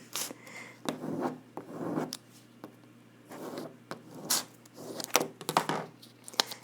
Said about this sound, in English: Then you want to flip it over and use your squeegee to burnish it on some more